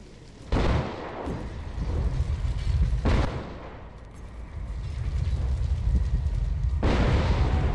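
Big explosions in the video game Hitman Absolution, three heavy booming blasts with rumbling tails, the last one swelling into a sustained roar.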